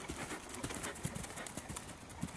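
Hooves of a large Warmblood x Welsh pony clip-clop in a quick, even rhythm during a riding lesson, fairly close and distinct, with no talking over them.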